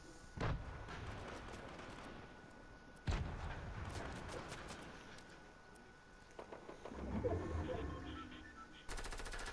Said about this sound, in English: Nice shooting at someone, I must say.